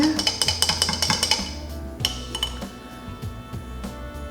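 A spoon clinks rapidly against the inside of a mug while stirring hot chocolate, a quick run of bright taps that slows into a few scattered clinks, near and clear.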